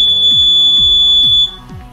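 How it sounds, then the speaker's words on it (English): A smoke detector goes off during fire department testing, a loud, piercing, high electronic tone sounding continuously, with repeated falling sweeps underneath, before dropping in level near the end. "So I'm gonna have to stop this video periodically when the alarm goes off."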